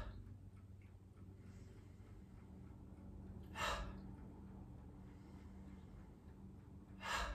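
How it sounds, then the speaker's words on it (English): Two short, soft breaths drift up from near silence during a floor-based relaxation exercise, one partway through and another at the end, each a gentle rush of air in through the nose and out through the mouth. "So inhale through the nose and exhale out of the mouth."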